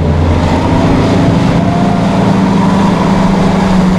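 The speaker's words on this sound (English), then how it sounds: "We're going to fire this boat up, get her on plane." A motorboat engine runs under power on open water, a loud, constant low droning hum with steady harmonics and wind noise across the microphone throughout.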